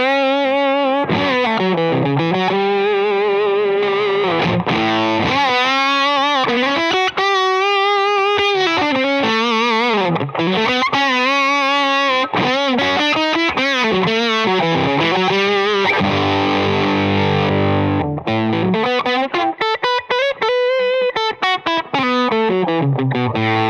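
An electric guitar played through a Sputnik 3 fuzz pedal with thick, buzzing distortion, sustained notes and bends with a saturated, gritty tone, loud and alone.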